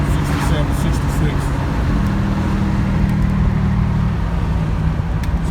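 A Buick Grand National fitted with a methanol injection kit is out on a test drive. A steady, close drone of engine and road noise runs throughout, and a person talks over it.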